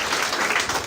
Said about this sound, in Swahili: Nataka makofi mazuri ya sifa.